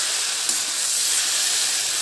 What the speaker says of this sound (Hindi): भिंडी मसाले में गरम मसाला पाउडर डालेंगे और तेज आंच में से 2 मिनट तक पकाएंगे